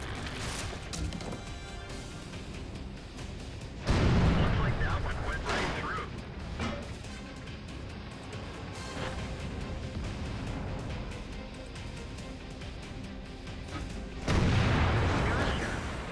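Tier 9 tank destroyer cannon firing in World of Tanks: two heavy booming shots several seconds apart, each with a sharp blast and lingering rumble, over continuous battle ambience and someone talking.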